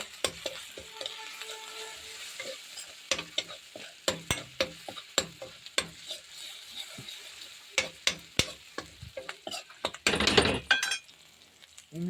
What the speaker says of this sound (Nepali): लसुन हालिसकेपछि अब यस्तो हल्का चलाइसकेपछि